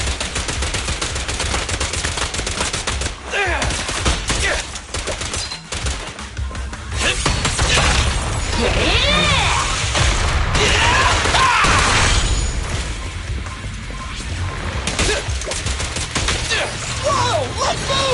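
Gunfire from Zenless Zone Zero crackles through a dense, busy mix of game combat sounds and music, with shots rattling repeatedly throughout.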